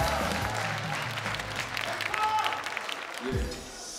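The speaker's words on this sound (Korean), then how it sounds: "네 여러분 큰 박수 부탁드리겠습니다." Audience applause at a Korean variety stage show, a dense burst of clapping from a large crowd that swells and fades over a few seconds, with a host's voice and some crowd noise mixed in.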